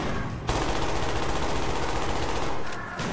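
An automatic weapon in Call of Duty: Black Ops fires a loud, continuous rapid burst for about two seconds, then cuts off sharply.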